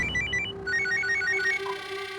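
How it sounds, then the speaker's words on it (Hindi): A telephone ringtone for an incoming call plays a bright, repeating electronic melody of quick beeping notes, steady and moderately quiet, with no voices over it. "दरअसल उनका दोबारा से फोन आया था।"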